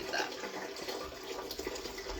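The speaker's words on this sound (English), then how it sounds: "Third rinse is the charm. We're going to rinse that one." Water runs from a faucet into a sink as something is rinsed, a steady, fairly quiet splashing flow with small fluctuations and a brief knock at the end.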